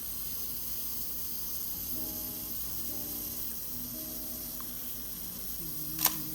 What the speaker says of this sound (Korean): 찰칵 하면서 이렇게 사진이 촬영이 되게 돼요